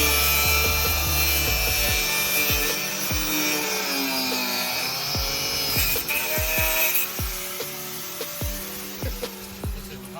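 Trimming a part while fitting an SP1-R exhaust to an A90 Supra: steady rasping, sawing strokes with repeated sharp knocks and clunks, fairly close and loud throughout, no talking.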